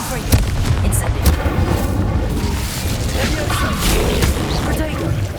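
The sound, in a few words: Confringo and Incendio spell explosions in the video game Hogwarts Legacy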